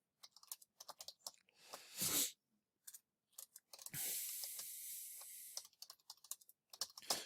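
Bursts of quick typing on a computer keyboard during an Outlook email account setup, with clattering key runs broken by pauses, a longer hissing stretch in the middle, and no talk.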